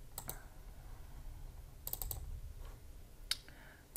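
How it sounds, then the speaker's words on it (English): Quick computer mouse clicks at a desk while uploading a file in Cricut Design Space, a few sharp close clicks in small clusters over faint background hiss. "Click on upload."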